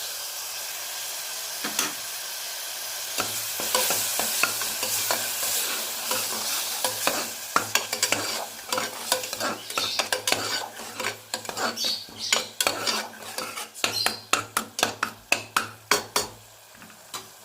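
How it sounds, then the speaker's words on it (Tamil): Tomatoes with ginger garlic paste and onions sauté in a hot pan, a continuous sizzle broken by many sharp scraping and clinking strokes of a spoon against metal, growing busier and more rhythmic toward the end. "தக்காளி கொஞ்சம் வதங்கட்டும்"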